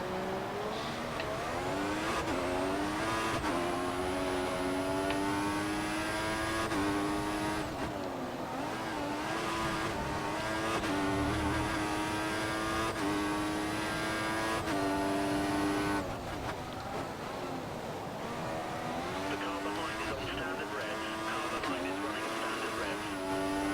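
Formula One cars in the F1 2014 game at the Canadian Grand Prix: a loud, continuous high-pitched engine whine rising and falling through gear shifts and corners, with brief tire scrubs, under a player's commentary.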